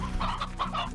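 Chickens cluck in the Slime Rancher video game, a quick run of soft, close clucks over one second with no talk.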